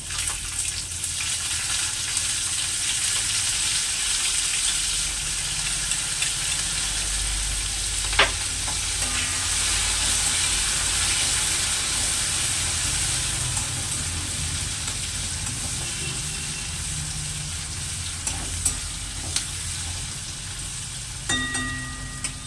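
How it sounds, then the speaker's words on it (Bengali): Chopped onions sizzle steadily in hot oil with fried tempering spices, a continuous near frying hiss with occasional clinks of a stirring utensil against the pan. "এই সময় কেটে রাখা পেঁয়াজগুলো দিয়ে দিচ্ছি"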